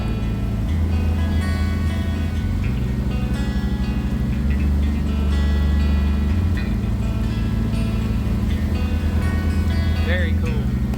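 Sea-Doo Spark 3Up jet ski with a freshly repaired engine, run at partial throttle during break-in, holds a steady loud drone with shifting low pitch while a voice talks over it.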